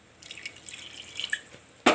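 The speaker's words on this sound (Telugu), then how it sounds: "కొద్దిగా నీళ్ళు వేసుకోవాలి." A little water poured over jaggery in a pan on a gas stove for syrup, with soft splashing and dripping, then a louder splash at the end, quiet and close.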